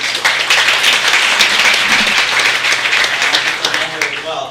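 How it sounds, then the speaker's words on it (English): An audience at a talk on how Facebook and Google build products gives a loud, dense round of applause that holds steady and starts thinning at the very end, with some voices mixed in. "So another round of applause for Maria."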